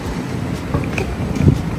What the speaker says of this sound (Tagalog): Mahangin ngayon yung weather. Yun o, super hangin.